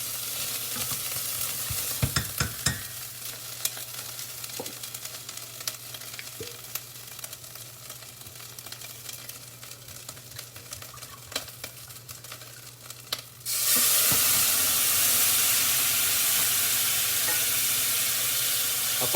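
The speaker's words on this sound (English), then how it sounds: "Scraping it in the bottom." A spoon scrapes and stirs across the bottom of a pot of short ribs, with scattered clicks over a low sizzle, then the frying surges into a loud, steady hiss near the end.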